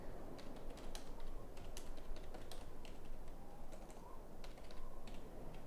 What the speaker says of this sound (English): Typing while steering this is not so easy.